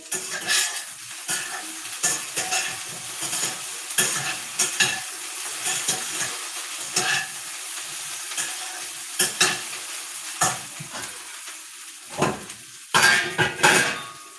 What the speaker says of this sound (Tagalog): Ang ingay ng kaserola ko.